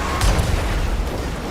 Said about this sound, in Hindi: पीछे कुछ तो ब्लास्ट हुआ